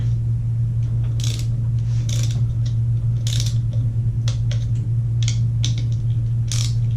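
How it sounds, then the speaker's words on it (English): A torque wrench set to 6 foot-pounds tightens the clutch basket fasteners on a Yamaha YXZ1000, with repeated small metallic clicks and ratcheting ticks over a steady low hum, close up and alone. "I have a torque wrench set to 6 foot-pounds to do a final torque."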